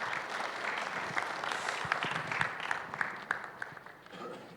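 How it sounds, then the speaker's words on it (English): Steady applause from a conference plenary session audience, many hands clapping at once, fairly loud and sustained, with a few sharper claps standing out near the end. "Let's give them a round of applause."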